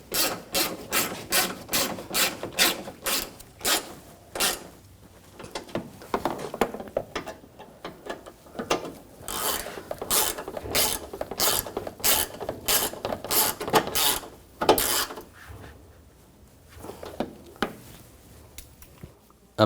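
Bolts being tightened on a 2000-2006 BMW X5 HID ballast control module, with a steady run of sharp ratchet clicks in bursts, close and dry, pausing now and then before resuming.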